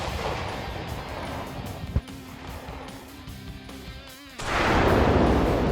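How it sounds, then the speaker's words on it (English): An attack drone strikes military equipment in the war between Russia and Ukraine, giving a sharp bang, then a loud, sustained roar of explosion and fire near the end over background rumble. "An explosion from the inside shatters the equipment and sets it on fire."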